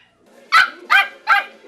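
Three sharp, loud barks from a puppy in a pet store, close to the microphone and evenly spaced, with nothing else heard.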